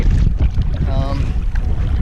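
Strong wind buffets the microphone on a lake while kayaking, a continuous low rumble, and a faint voice is barely audible beneath the gusts.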